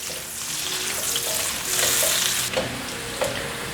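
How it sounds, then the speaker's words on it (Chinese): Carrot and red beet stir-fried in a pan with browned mushroom pieces, a steady loud sizzle with scraping, tossing strokes that swell midway, no voices. "放入红萝卜，还有红甜菜，快速翻拌。"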